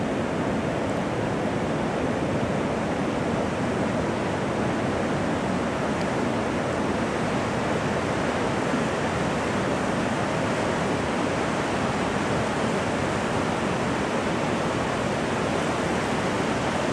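Ocean waves breaking at a surf beach with no surfers in the water, a continuous broad roar of surf with steady wind, loud and unbroken throughout with no voices.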